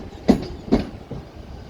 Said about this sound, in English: This train is Transpennine, and that's come from Edinburgh.